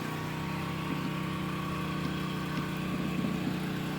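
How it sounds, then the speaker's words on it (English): A 2000 or 4000 watt portable generator engine runs at a steady hum with a constant buzzing drone, close and even in loudness throughout, no talk. "There, you heard that generator just a little. There, she just kicked down a little bit."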